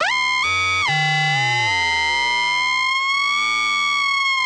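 A synth lead tone bends its pitch up and down in smooth, winding sweeps, loud and continuous with rich buzzy overtones.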